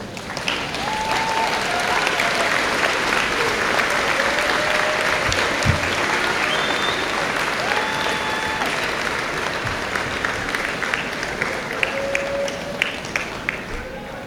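Sustained applause from a high school graduation audience standing to honor the teachers, a dense, steady wash of clapping lasting throughout with faint crowd noise and occasional cheers mixed in.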